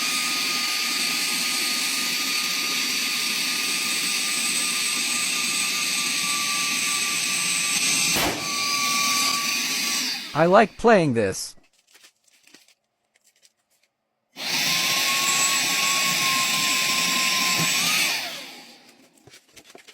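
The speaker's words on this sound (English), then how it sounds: "This mini vacuum cleaner works awesome." A mini vacuum cleaner blowing air, heard as a loud, steady high-pitched whine that runs for several seconds, cuts out abruptly, then returns briefly after a pause. A voice speaks during the gap.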